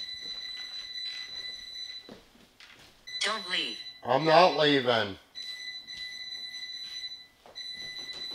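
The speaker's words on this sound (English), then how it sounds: "Alarm's going off again." An alarm goes off indoors during a paranormal investigation, steady high-pitched beeping repeating through the clip, cut briefly while people talk loudly nearby.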